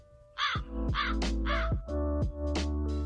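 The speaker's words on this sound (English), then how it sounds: "And we have crow." Crow caws played from a Takstar MX3 sound pad, a run of about six harsh, loud calls in steady rhythm over a constant low background hum, close and clear.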